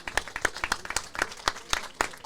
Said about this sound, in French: Donc j'aimerais qu'on applaudisse la famille et de Thomas et de Zakaria.